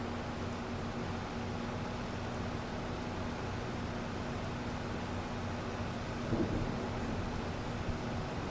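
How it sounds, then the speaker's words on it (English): Low, continuous rumble of thunder from an approaching storm in a farming video game, steady and moderately loud with a slight swell near the end, no talking. "I can definitely hear the thunder."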